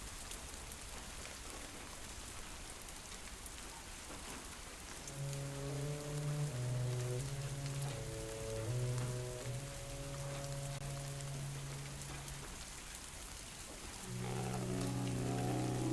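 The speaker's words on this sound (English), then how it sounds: "Because it's raining." Steady, soft rain patters on a surface throughout, with gentle musical tones rising and fading over the wash of drops.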